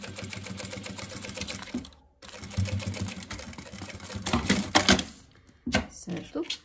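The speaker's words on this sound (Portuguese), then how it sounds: "E vem passando a costurinha bem na beiradinha." A sewing machine runs stitch after stitch along the edge of a fabric toiletry bag, rapid mechanical chatter in close bursts with a short pause, while someone talks over it.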